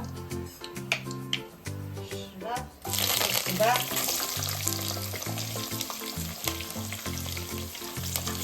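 Mustard seeds hitting hot oil in a pan burst into a loud crackling sizzle partway through, after quieter kitchen sounds with a steady low hum throughout.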